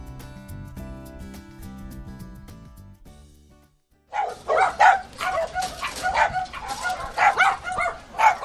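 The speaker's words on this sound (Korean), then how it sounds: "사람들이 많이 찾아와서 반갑게 짖는 강아지 소리가 들리죠" Dogs at a rescue shelter for abandoned animals in Yangsan, South Korea, bark and yip excitedly in a rapid, overlapping chorus, close and loud, after a stretch of soft music that fades to silence.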